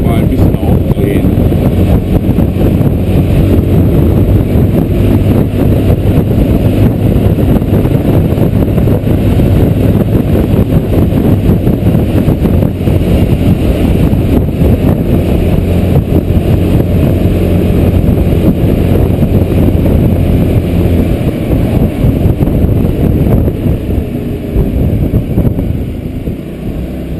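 Honda SH300i scooter speeding up along the B26 expressway toward Darmstadt, its engine drone steady and loud beneath heavy wind buffeting, with talk over it.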